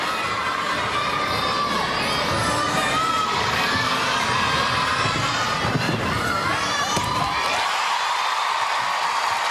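A large arena crowd at the 2022 World Artistic Gymnastics Championships women's all-around cheers and shouts loudly and continuously during a vault, with dense high-pitched voices, the roar easing near the end.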